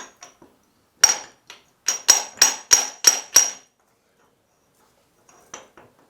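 A hammer drives an input shaft seal into place on a Case 1394 tractor: sharp metallic strikes, a single blow followed by a quick run of about six evenly spaced hits, then a pause and two lighter taps.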